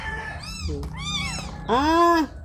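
A pet cat meows three times close up, the last call longest and loudest, with short gaps between the calls.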